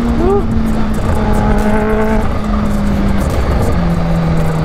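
A Kawasaki H2 motorcycle sweeps past loud and close, its engine note rising and then falling away as it passes.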